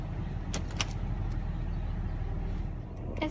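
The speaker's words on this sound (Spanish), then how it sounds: "Arranca el coche y vamos a la ciudad." A car engine runs with a low, steady rumble close by. A few sharp clicks stand out over it, and no one speaks.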